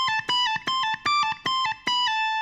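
Electric guitar plays a rapid pull-off phrase from a solo, bright sustained notes struck in quick uneven bursts, with close and clear tone and effects.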